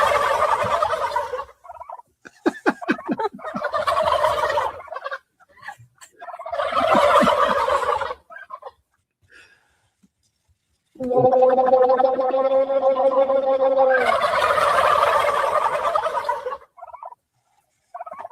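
A person gargles water to imitate a turkey gobble, producing long bubbling, rattling bursts with pauses between them, loud and close, with no talking during the sounds.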